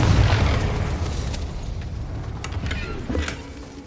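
A Confringo spell blasts in Hogwarts Legacy, a loud booming explosion at the start that rumbles and decays, followed by scattered crackling pops and debris.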